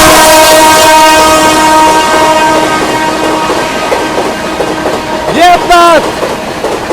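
The New Delhi–Sealdah Rajdhani Express blares its horn loudly while passing close by, a long sustained multi-tone blast followed by a short wavering horn burst over rolling rail noise, with a voice speaking briefly.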